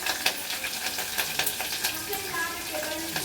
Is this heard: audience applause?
no